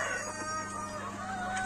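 A local rooster crows steadily at a chicken hatchery, the call carrying from a short distance over a constant mechanical hum, with no talking.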